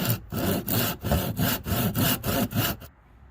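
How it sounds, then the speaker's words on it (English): Hand saw cutting through the wooden handle of a tree fork slingshot, about nine steady back-and-forth strokes with brief pauses, close and loud, then stopping into near silence. "I'm going to cut the handle off where I desire"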